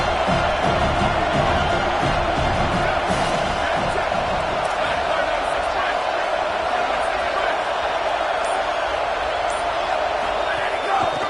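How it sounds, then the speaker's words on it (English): A big crowd at an Ohio State versus Tennessee football stadium roars during a red zone defensive stand, a loud sustained wash of cheering and yelling that swells and holds, with talk over the top. "This crowd is trying to inspire this defense to make a big red zone stop."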